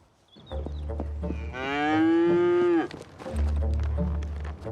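A cow on a French farm lets out a long, loud, close moo lasting about a second, framed by low rumbling handling and movement noise before and after.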